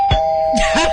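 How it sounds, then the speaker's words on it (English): An intercom doorbell gives a single steady electronic ding tone, loud and close, with faint background noise and brief rustling underneath. "Let me hit the bell again."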